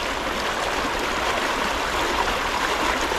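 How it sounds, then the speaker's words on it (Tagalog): A strong current rushes through a river flooded by continuous rain, a loud, unbroken roar of churning water with no pauses. "Lakas ng agos."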